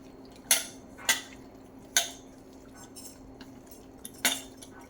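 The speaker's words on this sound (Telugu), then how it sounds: "ఇప్పుడు ఇవన్నీ కొంచెం మిక్స్ చేసుకోవాలి" Egg and fish roe being mixed with spices in a bowl, heard as four or five sharp utensil clinks against the dish spaced about a second apart over a quiet background hum.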